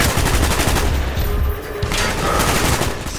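Gunfire in Call of Duty: Black Ops rattles in dense, loud, rapid automatic bursts that continue almost without pause and ease off only briefly midway.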